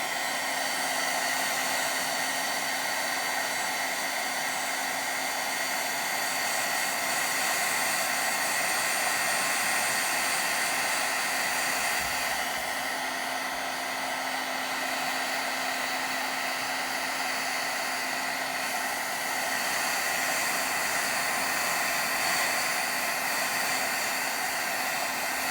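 A heat embossing tool blows hot air over embossing powder on a craft project, a steady loud whooshing drone with a fan whine, continuous and close for the whole stretch.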